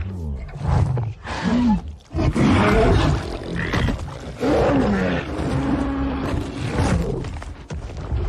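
A deep, loud monster roar rises and falls in several long bellowing bursts, heavy and close, with rumbling low undertones.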